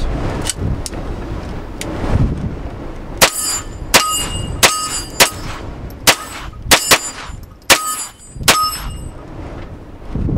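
A GSG 1911 pistol chambered in .22LR fires about a dozen sharp, close shots at an outdoor range. They come in an uneven rhythm, some in quick pairs, and each is followed by a short ringing tail.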